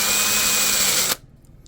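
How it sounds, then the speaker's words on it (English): A power drill whines steadily at high speed while modifying a drill bit, loud and close, then cuts off abruptly about a second in, leaving quiet room noise. "we're going to take a drill bit and we're going to slightly modify it"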